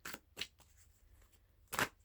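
Tarot cards are shuffled by hand in quiet, close, crisp riffling bursts: two quick shuffles near the start, then a pause and a louder third shuffle.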